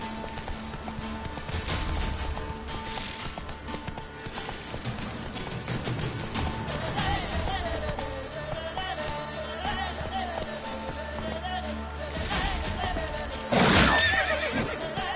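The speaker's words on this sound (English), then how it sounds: "Run, Roach." A horse in The Witcher 3 video game whinnies and neighs over steady galloping hoofbeats, with a loud close neigh near the end above continuous game music and ambience.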